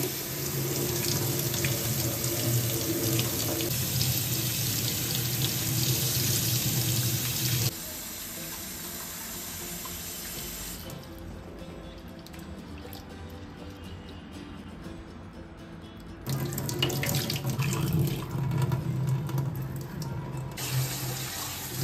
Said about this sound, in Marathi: भाज्या छान स्वच्छ धुवून घ्यायच्या आहेत.